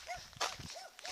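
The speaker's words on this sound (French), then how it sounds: "C'est un chien." A dog gives a few short, sharp barks amid soft whimpering and scuffling, fairly close, with quiet noise in between.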